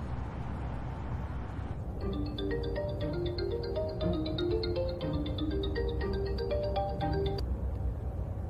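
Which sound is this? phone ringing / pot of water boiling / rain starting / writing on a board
phone ringing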